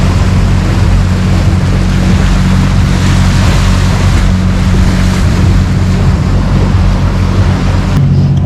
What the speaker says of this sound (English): So now we got the iron sail out, aka the diesel engine.